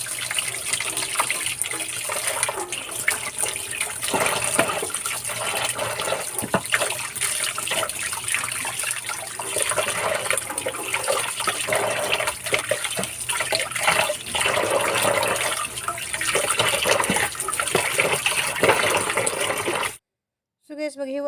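Chicken is washed under a running tap, a continuous splashing, gurgling stream of water in a sink with irregular surges as the pieces are handled, ending abruptly near the close.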